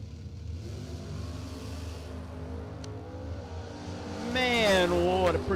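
A Maverick drag racing car revs and launches down the strip at a drag race, its engine a steady mid-pitched roar that rises into a louder, climbing howl near the end, with a crowd and commentary behind it.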